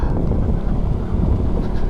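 Low, gusty outdoor wind rumbles and buffets the microphone continuously, a muffled roaring with no other clear sounds.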